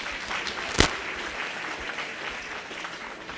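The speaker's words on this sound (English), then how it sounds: "Let's give this young man a round of applause." Crowd applause for a young exhibitor at a 4-H/FFA youth cattle show, a steady wash of many hands clapping with one sharp louder clap near the start.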